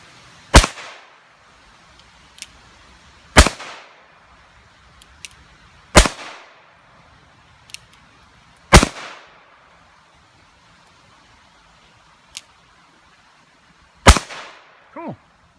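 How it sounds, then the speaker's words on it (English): A single-action revolver fired shot after shot, cocked before each one: five loud, sharp cracks spaced about three seconds apart, each with a short echo, and small clicks in between. "It is single action, so this is when you have to cock back and shoot for every shot."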